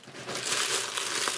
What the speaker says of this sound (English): And then it's in some black tissue paper.